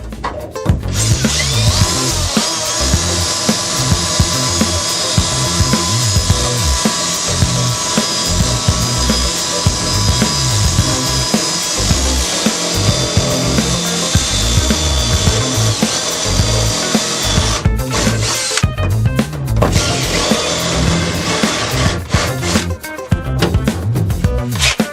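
Power drill boring through a part during a Pontiac disassembly, a loud sustained whining grind that runs close and continuous for most of the stretch, with a few brief breaks and stutters near the end.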